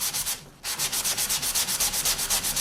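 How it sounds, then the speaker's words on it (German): Rapid rhythmic rasping of sandpaper rubbing back and forth on an MDF board, close and steady, with a brief pause near the beginning. "Das MDF schleife ich auch an"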